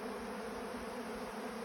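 A steady swarm hum of honeybees working over used honey filters near the hives, an unbroken, fairly quiet drone with no voices.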